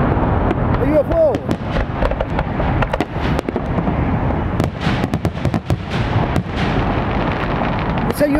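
Fourth of July fireworks over the Columbia River burst repeatedly, with sharp booms and crackles at an irregular pace while excited voices talk and shout throughout.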